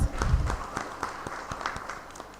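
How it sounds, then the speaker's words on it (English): Applause from a seated audience at a criminal justice institutions' managers' meeting, a modest spread of claps that starts with a louder burst and thins out over a couple of seconds. "So a round of applause."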